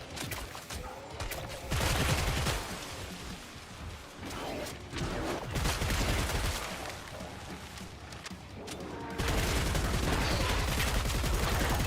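Rapid gunfire from the Killing Floor 3 video game: dense bursts of shots and fusillades, loud and close, with brief lulls between heavy volleys and a sustained barrage toward the end.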